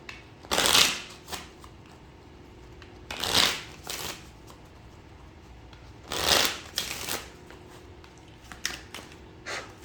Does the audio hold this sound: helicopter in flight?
no